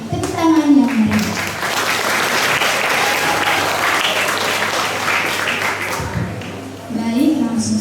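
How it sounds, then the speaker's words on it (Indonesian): Applause from a school audience at a book discussion event, steady clapping filling the room for several seconds, with a voice and brief speech audible at the start and end. "Mari kita sama-sama memberikan tepuk tangan yang meriah."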